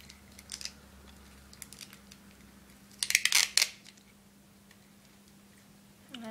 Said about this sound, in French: vous allez le scotcher